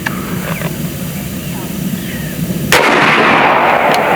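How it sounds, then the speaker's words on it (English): An AEA Zeus 16-inch .72 caliber air rifle fires once with a sudden loud crack. A sustained rush follows the shot, over a steady outdoor background. "I'm gonna shoot it this one time, and I'm gonna show you guys"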